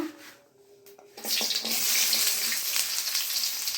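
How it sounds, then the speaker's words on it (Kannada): Chopped onions and capsicum dropped into hot oil for spicy gobi manchurian, bursting into a loud, steady hiss and sizzle after a quieter moment of clinks, continuing without talk. "ಎಣ್ಣೆ ಬಿಸಿ ಆಗಿದೆ. ಈಗ ಈರುಳ್ಳಿ ಹಾಕ್ಕೊಂಬಿಡೋಣ."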